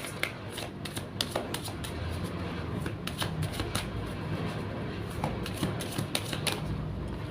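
A deck of tarot cards is shuffled by hand close up, giving a long run of crisp riffling and snapping taps at an uneven, busy rhythm over a quiet room.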